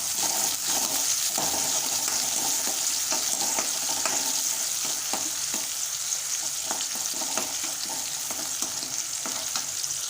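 Chopped onion and curry leaves sauté in hot oil in a kadai with a loud, steady sizzle, broken by frequent scraping and clacking strokes of a spoon stirring through the pan.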